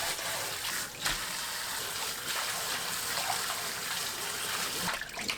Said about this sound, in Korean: 바로 찬물에 헹궈내세요.